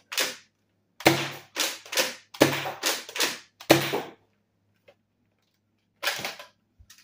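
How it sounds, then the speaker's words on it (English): A Nerf Pro Torrent blaster shooting foam darts, a rapid series of about ten sharp, loud mechanical thwacks in quick bursts, then a pause and a few final shots. "I want to give you a firing demo of this blaster"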